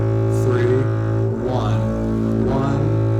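A double bass plays long, sustained bowed notes with a fast bow speed, forming a low, continuous drone that swells slightly with each stroke. A voice talks quietly over the playing.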